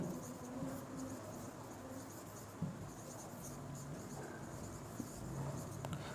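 Chalk or marker writing on a board during a Class 9 geometry lesson on corresponding angles, a faint continuous scratching and tapping alone against steady room noise.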